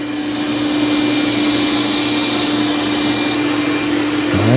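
Roborock Q7 Max+ robot vacuum running on max power in a kitchen, a steady loud whirring drone with a constant motor tone, heard up close and alone, with a brief rising sweep at the end.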